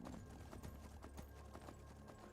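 Horse hooves in Skyrim, very faint, a quick run of soft clip-clop footfalls beating evenly beneath a low steady background hum with no talking.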